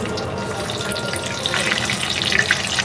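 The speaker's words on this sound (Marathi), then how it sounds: "आता मिरच्या पण तळून घेते" Green chilies fry in hot oil for a fasting-day batata vada snack, a steady close sizzle that grows busier and crackles more sharply in its second half, with no speech.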